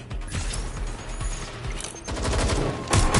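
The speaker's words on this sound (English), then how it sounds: "They're shooting at us!" Rapid gunfire in a London street shootout in the video game Watch Dogs Legion, dense crackling bursts of shots with a louder volley near the end, continuous and close.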